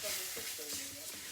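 A spoon scrapes and stirs turmeric through spices sizzling in a pan for a fish curry, a soft continuous frying hiss with light, quiet scraping strokes.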